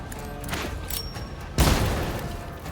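Frag grenade blast in Warhammer 40,000: a sudden loud boom midway, with a low thud and a broad rumbling tail that fades slowly under steady game ambience.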